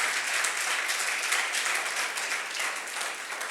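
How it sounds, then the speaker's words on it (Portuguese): A church congregation applauding the Lord during a service, a continuous wash of many hands clapping, moderately loud and even throughout the short stretch, with no talk over it. "Se for para o Senhor, meu irmão, vamos aplaudir o Senhor."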